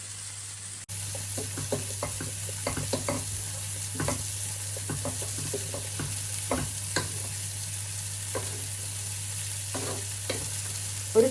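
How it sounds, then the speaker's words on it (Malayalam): Fish fries in a pan with a continuous sizzle, broken by repeated scraping and clinking of a utensil against the pan, and a low steady hum underneath. "മീനും താണ്ടേ ഇവിടെ ഫ്രൈ ആയിക്കൊണ്ടിരിക്കുക കേട്ടോ"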